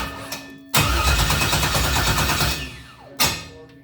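A 5.3-litre Chevrolet Camaro V8 cranks on its first startup, a loud sustained starter whir running for about two and a half seconds, then a second brief cranking burst begins near the end.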